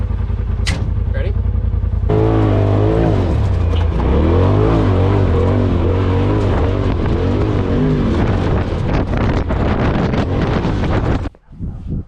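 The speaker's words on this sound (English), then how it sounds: "Taking Ryan for a quick ride real quick before we head home." A Polaris RZR Pro side-by-side drives off and accelerates, its engine loud and close with rising and falling revs under heavy wind buffeting, then cuts off abruptly near the end.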